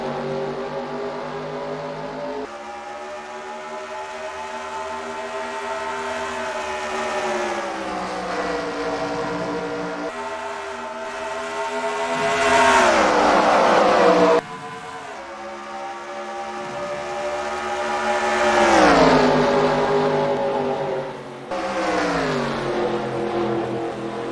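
Video-game NASCAR stock cars race at Chicagoland in an eNASCAR series, engines droning and rising in pitch as they pass, the pack's roar swelling and dropping in repeated waves, steady and loud with no talk.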